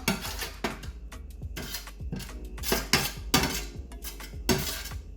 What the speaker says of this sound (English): some bolognese at the bottom of the tray, and mix that, spread that all over